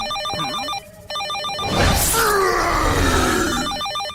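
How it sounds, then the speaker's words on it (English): An old-style telephone bell rings in bursts in a 1994 Fantastic Four cartoon, with a loud crash and rumble cutting in midway before the ringing resumes. "That's just a phone, Hulk."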